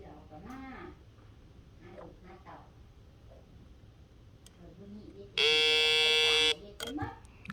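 A steady electronic buzzer from a 555 IC concentration test game circuit sounds once for about a second. Speech comes before and after it.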